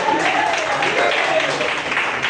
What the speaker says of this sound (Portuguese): Uma salva de palmas para Jesus de Nazaré.